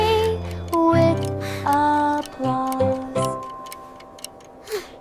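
A clock ticks in short, regular clicks among bright, sustained musical chime tones that ring and fade in turn.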